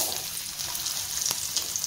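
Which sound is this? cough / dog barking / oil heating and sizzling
oil heating and sizzling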